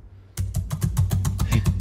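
Rapid clicking from a computer keyboard starts abruptly and continues as quick, evenly spaced keystrokes, close and fairly loud, with two people typing in the same spot.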